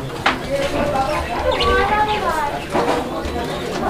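Male Kashmiri Barhuma pigeon cooing in a loft, repeated rolling coos close by, mixed with other birds' calls and someone talking over them.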